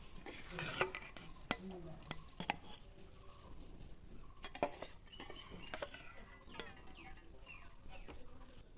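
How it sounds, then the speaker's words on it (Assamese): A spoon stirs rice just added to a pot of boiling water while making chicken biryani, giving repeated scraping knocks and clinks against the pot over a bubbling hiss, close and fairly quiet. "এতিয়া মই লৰাই দিম।"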